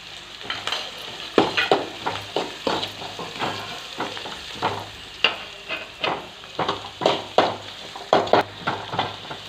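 Onion fries in a pan with salt and turmeric while being stirred, a steady sizzle broken by a regular series of scraping stirs, close and fairly loud, with no talking.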